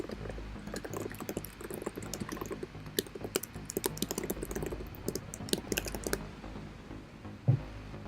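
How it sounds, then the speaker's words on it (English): Loud typing on a computer keyboard while coding: rapid, irregular clusters of sharp key clicks, close and continuous, with a single heavier thump near the end and no voices. "I apologize for the loud typing."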